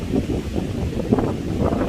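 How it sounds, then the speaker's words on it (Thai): Strong wind buffets the microphone beside a reservoir as rain approaches, a loud, gusty low rumble filling the short stretch with uneven surges. "ตอนนี้ลมแรงมากเลยครับ"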